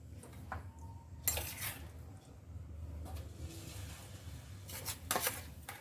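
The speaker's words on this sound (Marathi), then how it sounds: "आणि तेल सुटेपर्यंत हा मसाला आपल्याला भाजून घ्यायचा आहे" A spoon scraping and clinking in a pan while masala roasts in oil over low heat for Konkani kombdi vade: scattered metallic scrapes and taps, with two louder bursts near the start and end, and a faint background hum.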